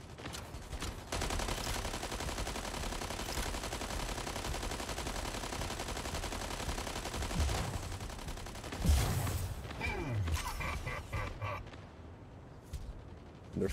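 Sustained, dense automatic gunfire from video game guns, a continuous loud burst that breaks into sharper separate shots and impacts toward the end.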